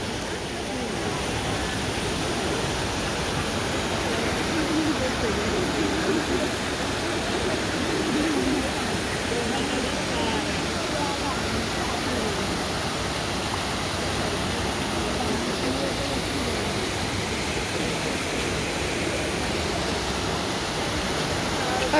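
Water splashing steadily at the Trevi Fountain in Rome, a dense, continuous rushing roar that holds at one level throughout, with faint crowd murmur beneath.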